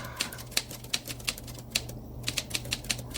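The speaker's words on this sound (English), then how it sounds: "This is some furious typing." Rapid, furious keyboard typing, a dense run of sharp clacking keystrokes in uneven bursts with a brief pause midway, fairly faint and close over a low steady hum.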